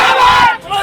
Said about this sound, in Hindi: जब एक टीआई के सड़कों पर मुर्दाबाद के नारे लग जाएं